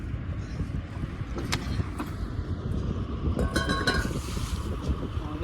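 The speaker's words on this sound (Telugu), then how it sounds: "వాతావరణం అయితే అస్సలు బాగాలేదు గాలి ఎక్కువ వేస్తుంది" Strong wind buffets and roars steadily, a constant rushing noise with occasional gusts and knocks, no clear talking.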